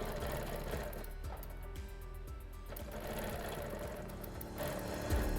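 A sewing machine runs continuously at close range while quilting rows of hexagons guided by a ruler template, its fast even stitching whir holding steady throughout with slight changes in pace.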